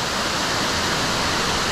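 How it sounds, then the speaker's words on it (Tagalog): Kurakaunui Falls pours in a steady, dense roar of falling water, loud and unbroken throughout with no voices over it. "So guys, welcome to Kurakaunui Falls!"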